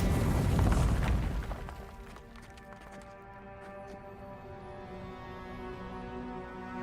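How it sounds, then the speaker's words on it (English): Grenade blast in the fantasy game Avowed: a heavy, rumbling boom right at the start that decays over about two seconds into a ringing, tonal tail and low ambient hum. "I'm gonna grenade it."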